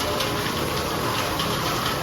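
Heavy summer rain during a thunderstorm, a dense, steady broadband wash of falling water that goes on without a break and has no voices over it.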